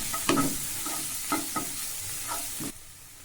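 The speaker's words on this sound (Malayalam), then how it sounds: "കുറച്ച് മഞ്ഞൾപ്പൊടി ഇട്ട് കൊടുക്കണം ഒന്ന് ചെറുതായി ഇളക്കി മൂപ്പിക്കാം" Turmeric powder frying on medium flame over a steady sizzle, stirred with a handful of spaced scraping strokes against the pan, close and clear, until the sizzle suddenly drops near the end.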